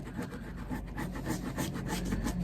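A dull steel chisel scrapes over the surface of a vintage Louis Vuitton briefcase during restoration, a steady run of rough, rasping strokes close up and moderately quiet, with no talking.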